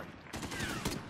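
A weapon fires in a Call of Duty Modern Warfare campaign street fight: a sudden loud, dense burst after a brief quieter moment, then a sustained roar and rumble for about a second.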